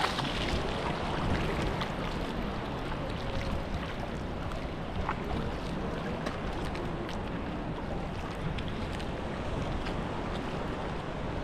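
A boat moves on the open sea, with a steady wash of waves and water rushing past under gusting wind buffeting the microphone, continuous and moderately quiet.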